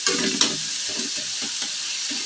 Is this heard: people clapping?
no